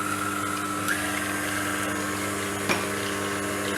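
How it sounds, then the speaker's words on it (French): Electric hand mixer whirs steadily through gingerbread batter after an egg goes in, a constant close motor drone with a couple of brief knocks. "Je referme mon batteur et je mélange"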